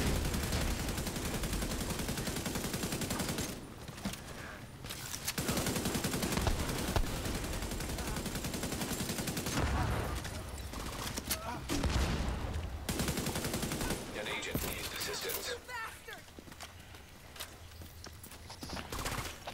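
Sustained gunfire from the video game The Division 2, dense bursts and rapid shots filling most of the passage, briefly dropping out before resuming, with faint talk underneath.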